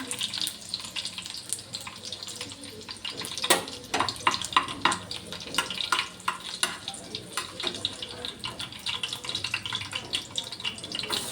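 Onion sautéing in a pan for a fenugreek leaf curry, heard as an ongoing sizzle with irregular scraping and stirring clatters close by and a soft, watery hiss throughout.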